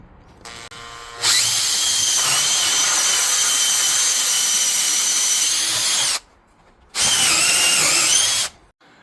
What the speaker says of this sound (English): we can go back to the same one we used to drill through the door earlier, the 1-inch hole saw